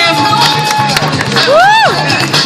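A crowd cheers and whoops during a live footwork and spin dance show, with one loud rising-and-falling whoop over general crowd noise and scattered clapping.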